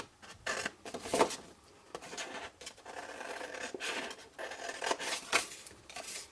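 Scissors cutting through paper card for a punched envelope box, a handful of quick snipping and rustling strokes at close range, fairly soft, with no talking.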